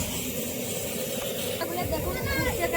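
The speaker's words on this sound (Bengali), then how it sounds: "দেখুন ফুটছে কিরকম" Khichuri for a Sheetala puja offering boils in a large pot, giving a steady close bubbling hiss that swells slightly toward the end, while a person talks over it.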